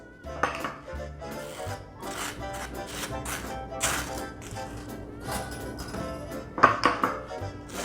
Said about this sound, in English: is to butter this toast.